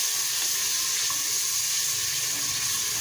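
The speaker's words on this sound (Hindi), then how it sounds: "जो अदरक लहसुन की कटोरी है उसी में थोड़ा सा पानी डालेंगे हम" Water is poured steadily into a bowl of ginger and garlic paste while cooking aloo gosht, a continuous hissing splash with no talking.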